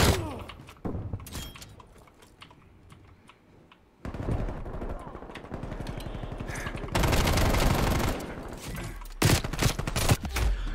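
Rapid gunfire fills a Call of Duty match, with dense automatic bursts and sharp single shots rattling loudly and almost without a break, growing heavier toward the end.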